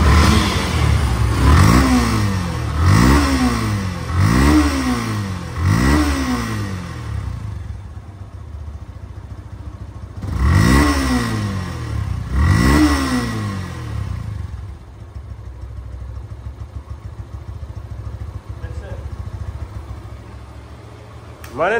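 A nearly new 2024 Yamaha FZ-2 motorcycle with about 2,300 km on it is revved close up: five quick throttle blips in a row, a short pause, then two more, before it settles into a steady idle.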